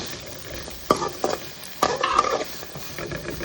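Boiled karamani sundal being stirred in a hot pan with a steady soft sizzle, broken by a few sharp scrapes and knocks of the spoon against the metal, close and without speech.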